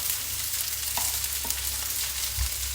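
Eggs frying in a pan with bacon for Vietnamese fried rice noodles, a loud, constant sizzle with a few soft knocks, close and uninterrupted.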